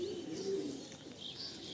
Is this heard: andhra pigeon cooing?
yes